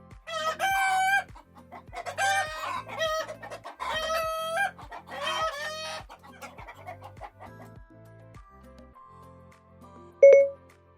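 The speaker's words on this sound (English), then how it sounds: "How does a hen sound? Here's a chicken." Hen clucking mixed with a rooster's loud crowing, several rapid rhythmic calls over a steady low thumping beat, then quieter fading clucks and a brief bright electronic tone near the end.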